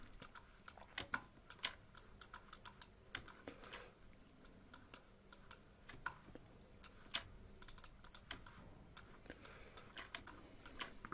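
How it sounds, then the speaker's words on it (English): Computer keyboard and mouse in Photoshop editing: quiet, rapid clicks and key taps tick irregularly throughout, with the spacebar held and the mouse clicked and dragged, faint and close with no talking. "Holding spacebar, then clicking and dragging the mouse."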